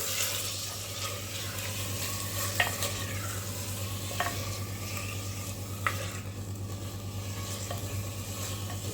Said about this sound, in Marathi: आता आपण ह्याला छान असं परतवून घेऊया